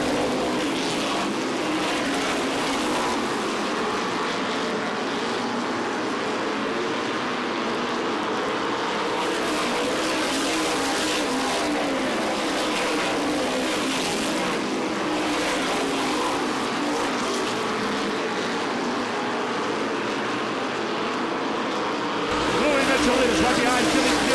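Race cars at the 2005 MRS Star 100 race past in a continuous roar, engines rising and fading as they pass, loud and busy throughout with a commentator talking over it.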